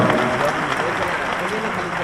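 Clapping from a village crowd gathered around a local MLA in Vaishali, Bihar, steady and dense for the whole stretch with voices mixed in beneath it.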